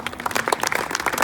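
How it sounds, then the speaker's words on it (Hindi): Audience clapping at a comedy poetry show, a brief burst of dense hand claps from a crowd, lively and fairly close, lasting just over a second. "एक बार जोरदार ताली बजाया।"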